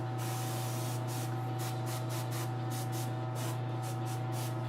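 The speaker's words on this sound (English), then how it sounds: "If you're not used to airbrushing and haven't done it yet, it's not that scary." An airbrush sprays paint onto a model in quick repeated bursts, a close hissing spray pulsing on and off over a constant low hum.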